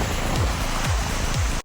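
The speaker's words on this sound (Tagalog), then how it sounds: "Ito yung waterfalls." A waterfall at Shymbulak mountain ski resort in Kazakhstan roars as a constant, dense broadband rush, close and loud, cut off abruptly at the end with no speech.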